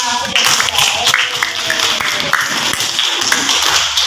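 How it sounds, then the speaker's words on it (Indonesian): A primary school class claps hands together in a classroom, quick rhythmic claps mixed with children's voices and some cheerful calling, fairly close and busy throughout. "Kita tepuk tangan untuk kelas 5."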